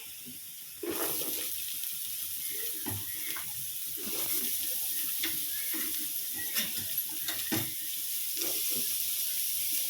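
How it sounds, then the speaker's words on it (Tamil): Beetroot dropped into a hot pan with dried red chilies, an abrupt burst of frying sizzle that stays loud and continuous, with occasional crackles and stirring clatter. "இப்போ பீட்ரூட் சேர்க்க போகிறோம்."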